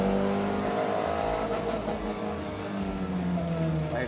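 A Renault Clio Williams, lightly modified and on 16-inch wheels, revs hard against its rev limiter. The engine note is loud and close, buzzing steadily as it bounces off the cutoff for about four seconds, with no talk over it.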